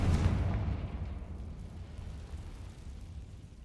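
A Confringo spell blast in Hogwarts Legacy, a loud booming explosion that hits at once and then rumbles and fades over a few seconds, heard alone.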